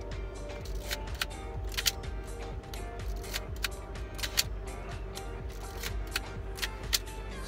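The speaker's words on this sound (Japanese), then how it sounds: "切れますね、シャッター。" The shutter of an old second-hand film camera fires over and over, giving about a dozen sharp close clicks at uneven intervals over a constant low background hum.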